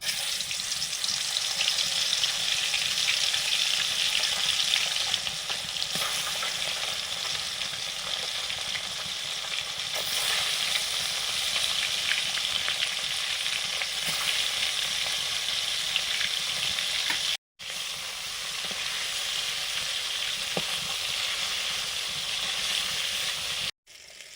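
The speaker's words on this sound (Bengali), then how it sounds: "সর্ষের তেল মাছগুলো ভেজে নিচ্ছি" Fish frying in mustard oil, a loud continuous crackling sizzle close by that runs unbroken apart from two brief cuts, with no voices.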